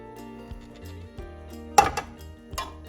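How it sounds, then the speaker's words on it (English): A spoon clinks and scrapes in a bowl as egg is stirred into a butter mixture for vanilla cupcake batter, giving a few quiet taps and then a sharper clatter near the end. "Now in the mixture of the butter, adding in the egg. Going to give a quick stir."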